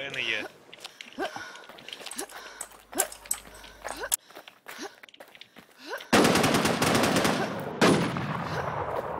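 Gunfire in the online survival shooter NewZ Infestation during PvP, bursts of shots scattered across the clip and a dense, louder stretch of rapid fire near the end, with voices talking over it.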